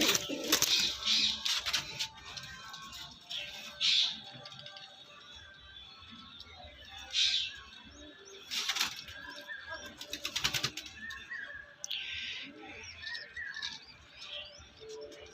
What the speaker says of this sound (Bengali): পায়রাগুলো ভয় পেয়ে যাচ্ছে যার কারণে উপরে উঠে যাচ্ছে